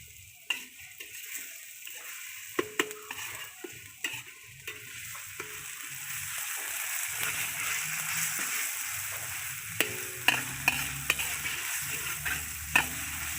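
Meat for Tiyula Itum, a Suluk/Bajau dish, fries in a little oil with a steady, bright sizzle, while a utensil scrapes and taps against the pan in intermittent clicks, close up and without speech.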